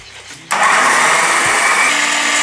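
A loud motor whirs up suddenly and keeps grinding steadily, a blender running at full speed blending fruit with water after a quiet moment.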